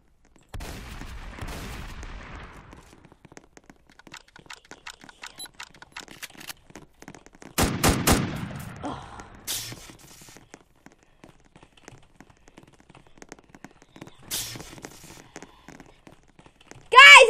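Gunfire in Roblox Prison Life: scattered bursts of sharp shots with gaps between them, some rapid clusters and louder volleys midway, under and between a person talking, ending in a loud close burst.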